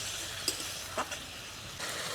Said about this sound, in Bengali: সামান্য পরিমাণ জল দিয়ে মশলাটাকে আরও কিছুক্ষণ কষিয়ে নেব।